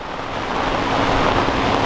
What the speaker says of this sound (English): these straight line winds that are coming across us right now and it is getting absolutely crazy